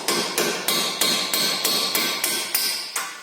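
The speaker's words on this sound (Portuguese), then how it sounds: "Dá uma pancadinha aqui na ponta dele." A hammer taps the end of a ball joint bolt on the suspension of a 2012 Ford New Fiesta, with eight sharp metallic strikes in a steady rhythm, each ringing briefly, close and loud with no talk.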